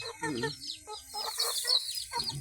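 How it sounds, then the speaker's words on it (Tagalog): Native Filipino chickens cluck in short, close bursts, with a brief higher squawk; no talking. "Ito yung mga native na manok talaga."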